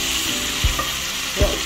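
Beef frying over high heat in a pot for rice gives a steady, close sizzle, with two soft knocks of stirring.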